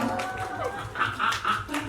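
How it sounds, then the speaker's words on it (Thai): Audience clapping at a fan meeting press event, a modest scatter of claps from a crowd mixed with light voices and chatter, fairly faint throughout. "ปรบมือหน่อยสิฮะทุกคน"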